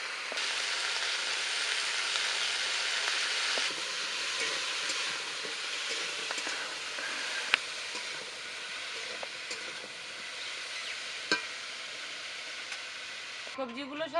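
Beans and potato pieces fry in hot oil in a pan, a continuous close sizzle with occasional stirring clicks and scrapes, steady throughout and ending with a short clatter.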